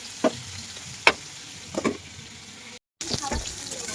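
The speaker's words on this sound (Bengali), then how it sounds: "এখানে দেখো বেগুনটা ভাজা চাপিয়ে দিয়েছি নুন দিয়ে, এখানে বেগুন ভাজা, আর এখানে চিচিঙ্গাটা ভাজা চাপিয়ে দিয়েছি" Eggplant and snake gourd slices fry in salted oil in a pan, giving a low sizzle broken by a few sharp clinks and stirs, with a brief silent gap near the end before the sizzle returns.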